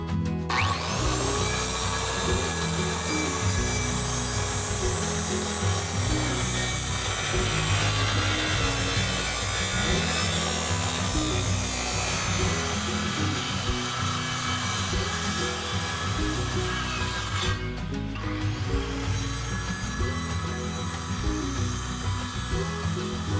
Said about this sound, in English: now that I've done the skill saw, we're gonna switch to a jigsaw to finish the cut